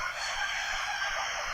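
A farmyard rooster perched on a gate crows once, loud and close, in a short sustained call with no talk over it.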